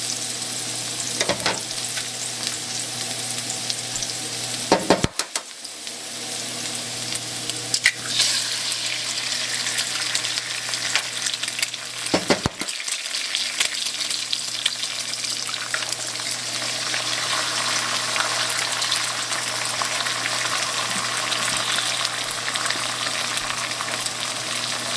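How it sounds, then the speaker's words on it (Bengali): Egg fries in a pan alongside pineapple fried rice, a continuous crackling sizzle broken by a few sharp clanks of a utensil against the pan. "তো আমরা একটু এগ দিব এই মাঝখানটায়।"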